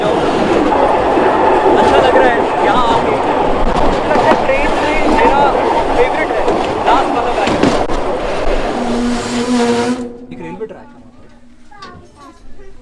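A historical passenger train in Serbia rolls along the rails with a steady, loud rumble and clatter while people talk over it, then the noise drops away as the train slows and stops.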